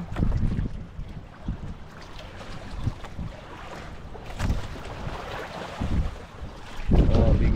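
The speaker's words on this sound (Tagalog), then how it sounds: "Alon oh. Grabe alon." Wind and rough waves aboard a boat at sea, a constant gusty roar with heavy thumps of water against the hull, some quiet talk in the background.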